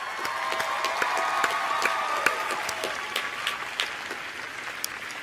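Graduates and guests at a 2016 College of Agriculture commencement give a round of applause for their supporters, sustained crowd clapping with individual claps popping out and faint cheering mixed in.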